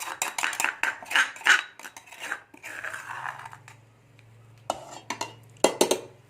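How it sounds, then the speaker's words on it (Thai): Pounded chili paste is worked into minced pork for northern Thai sausage, giving wet, uneven scraping and slapping strokes of utensils against a bowl that come in bursts with brief pauses between. "พริกที่เราตำเสร็จเรียบร้อยโขกเสร็จเรียบร้อยนะครับตำเสร็จเรียบร้อย เราจะเอาไป คลุกกับ ที่เราสับไว้เมื่อกี้นะครับ"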